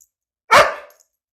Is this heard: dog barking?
yes